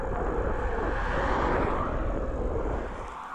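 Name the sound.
hum of bicycle tyres on the road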